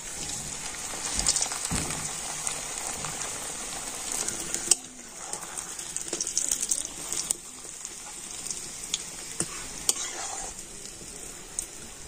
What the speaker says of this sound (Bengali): আর এবার আমি পুর ভরা পাঁপড়টা তেলের মধ্যে দিয়ে দিচ্ছি।